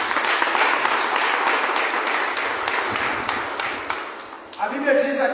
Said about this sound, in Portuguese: Aplauda o nosso Deus.